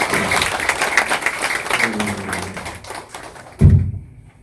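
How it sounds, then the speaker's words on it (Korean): A church congregation applauding in thanks during a service, a dense run of claps that tapers off, ending in a single heavy thump before near silence. "감사의 박수를 한번 보내면 제가 좋겠습니다"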